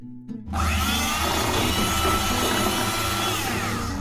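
A normal household electric beater whips cream in a bowl, switching on after a brief pause into a loud, steady motor whir that runs close and continuous to the end.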